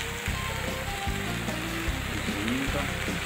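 Chopped onion sizzling and frying in a pan for a mushroom soup base, a steady crackling hiss throughout with occasional low clatters from stirring.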